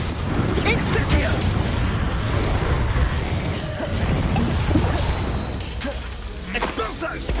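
Incendio fire spells are cast during a Hogwarts Legacy battle, a continuous loud roar of bursts, whooshes and crashing impacts with shouting voices mixed in.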